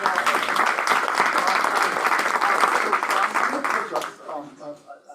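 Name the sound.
applause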